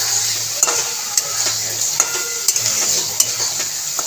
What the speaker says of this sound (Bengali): পটলটা দিয়ে একটুখানি কষিয়ে নেবো